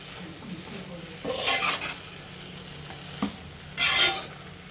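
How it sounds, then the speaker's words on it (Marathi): Butter being stirred into food in a pan on a tava, with scraping strokes in two louder bursts over a low background sizzle; no talking. "अजून थोडं बटर घालूया आणि छान मिक्स करून घेऊया"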